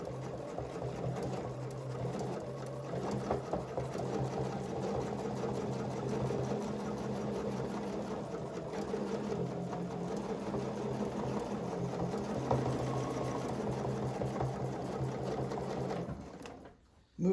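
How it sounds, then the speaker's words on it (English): Sewing machine stitching in a steady, rapid mechanical hum and clatter, close and continuous for most of the stretch before stopping abruptly near the end. "I can do one more stitch to end up back in my center"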